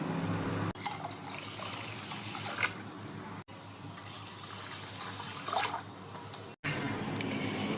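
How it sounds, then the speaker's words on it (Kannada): Water pours steadily onto rice in a container, a close, continuous trickling gush with two brief breaks. "ಒಂದು ಲೋಟ ಅಕ್ಕಿಗೆ ಎರಡು ಲೋಟ ನೀರು ಹಾಕಿ ಬೇಯಕ್ಕೆ ಇಟ್ಕೊಳ್ತಾ ಇದ್ದೀನಿ"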